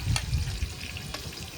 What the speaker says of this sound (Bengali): পটলগুলি সবচেয়ে সুন্দর করে ভাজতে হবে